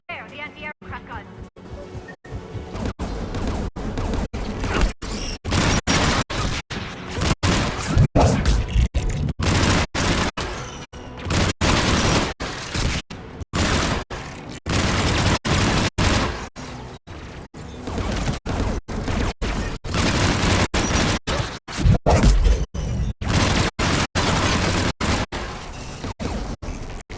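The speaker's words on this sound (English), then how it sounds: "There, the anti-aircraft guns." Anti-aircraft guns pound away in Mass Effect 3 with loud, dense bursts of firing and crashing explosions that pile up almost without pause, voices talking over the battle.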